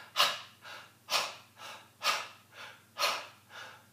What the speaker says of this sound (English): So I'm going to breathe in again, and here we go for another 4 after 4.